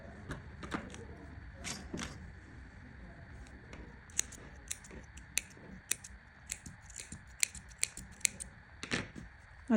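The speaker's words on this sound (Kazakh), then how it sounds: "Енді артық жерін қиып тастаймыз." Scissors snip through excess fabric while sewing, a series of small crisp metallic cuts in an uneven rhythm, close and fairly quiet against a soft room background.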